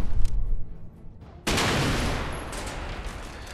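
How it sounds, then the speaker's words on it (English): Gunfire sounds in a first-person shooter video game, with a few scattered shots and then a sudden loud burst of sustained fire or explosion that fades slowly. "Now shoot the red barrels, which means explode."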